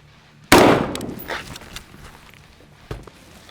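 A sniper rifle fires green tip 7.62x39 ammunition at Agilite Raider body armor: one sharp, loud, close shot with a long decaying echo, followed a couple of seconds later by a much fainter pop.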